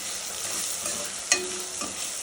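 Vegetable rice sizzling in a frying pan as it is stirred, a steady hiss with one sharp scrape of the spoon partway through, close and without speech.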